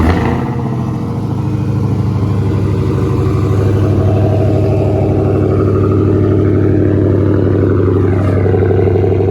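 Steady, loud engine drone from a Dodge Charger Hellcat while driving, a continuous low rumble with a slight rise in pitch near the end, heard from inside the car.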